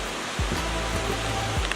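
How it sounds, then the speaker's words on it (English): Steady broadband roar of a waterfall along an Oregon hiking trail, a continuous rushing wash of falling water heard close and alone. "this waterfall."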